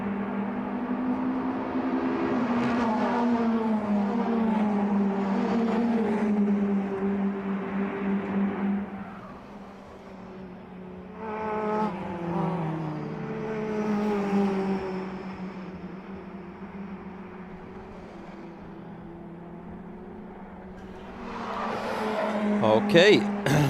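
MITJET race cars on the Biķernieki track in Riga, engines droning and rising in pitch as they pass at a distance, with a commentator talking over the steady motor noise throughout.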